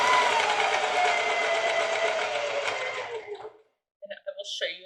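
A sewing machine runs steadily as it stitches along the edge of a piece with boning, a loud continuous mechanical whir lasting several seconds before it stops, followed by a few brief handling sounds.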